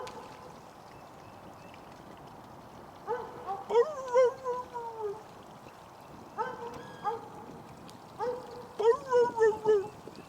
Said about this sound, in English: There goes a dag-blasted dog in my video.